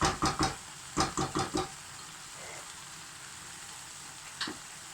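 Squash cooks in oil in a pan with a faint, steady sizzle. Quick bursts of utensil taps and scrapes against the pan come in two clusters, then a single later knock.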